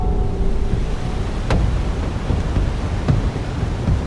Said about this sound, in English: You've never seen a storm like this one.